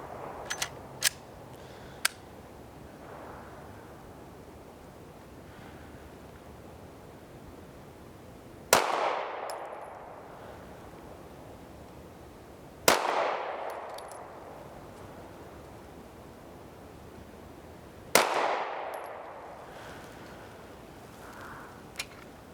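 Beretta APX compact pistol fired at targets on an outdoor range: three loud, widely spaced single shots, each with a sharp crack and a decaying echo, following a few faint clicks.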